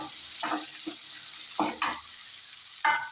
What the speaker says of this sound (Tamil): வெங்காயமும் வடகமும் கொஞ்சம் நல்லா மிக்ஸ் பண்ணி விட்டுடுங்க